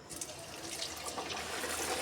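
A Mughlai paratha slides into hot oil in a pan and fries with a soft, steady sizzle that stays constant with no talking.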